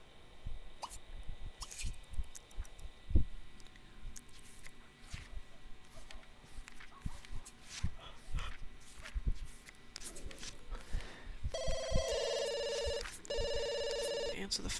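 A telephone rings in The Sims 2, a bright electronic trill repeating steadily near the end over busy in-game household clatter, footsteps and soft plops.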